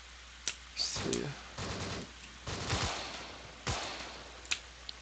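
Gunfire from an SA-58 rifle in a video game, a few sharp shots and short bursts scattered over steady background noise.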